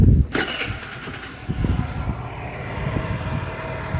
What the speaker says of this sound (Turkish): Bir daha marşa basalım.